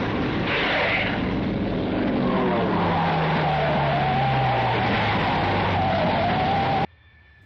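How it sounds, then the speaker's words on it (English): A B-17 Flying Fortress bomber crash lands, a loud, continuous roar of skidding and scraping with falling engine drone, close and sustained for several seconds before cutting off abruptly. "The crash landing as seen here was not intentional, however still used as part of the film."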